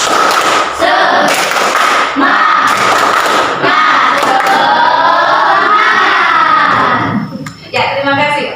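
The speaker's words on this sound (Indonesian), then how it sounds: "Ibu minta tolong Mala ya untuk memimpin tepuk semangat" A school class performs the rhythmic 'tepuk semangat' clapping chant, loud bursts of group clapping in a beat alternating with children's shouted chanting voices, close and energetic, ending with a short pause and a final burst.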